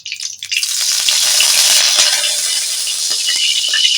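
Mustard oil hits a hot kadai and bursts into a loud, steady sizzle that holds for several seconds, close up and with no talking.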